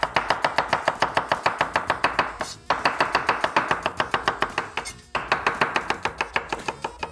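Knife slicing spring onions on a cutting board, a steady run of quick, sharp close-up chops in rapid rhythm, pausing briefly twice before resuming at the same pace.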